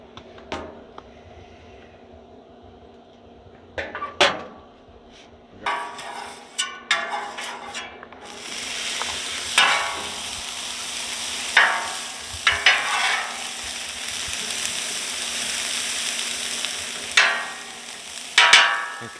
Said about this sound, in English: we're going to come over here to the flat top and start sauteing these